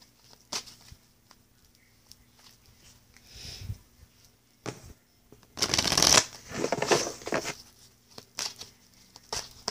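Tarot cards shuffled by hand on a table, with soft riffles and rustles early on building to a dense, loud burst of shuffling midway, then scattered card flicks and taps.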